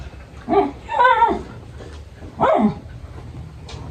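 Dogs bark a few separate times, moderately close, with short yelping barks and quiet gaps between them and no talk over them.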